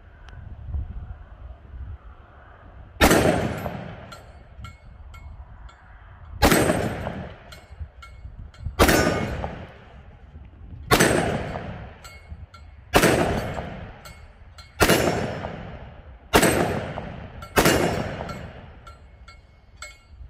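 Shots from a Smith & Wesson M&P 2.0 10mm pistol with a 4-inch barrel, fired outdoors: eight loud, sharp reports spaced about two seconds apart, each trailing off into a short echo, with light wind noise between them.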